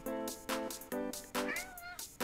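A cat meows repeatedly, about five loud, close calls in a steady rhythm, the later ones drawn out and wavering, with no one talking.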